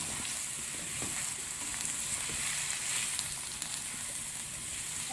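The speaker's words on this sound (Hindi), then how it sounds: "अब इसी ऑयल में हम प्याज शामिल करेंगे। इसको थोड़ा सा ब्राउन करेंगे," Onions frying in oil in a home kitchen while cooking okra with onion, a steady loud sizzle with faint crackles and occasional light stirring, no voices.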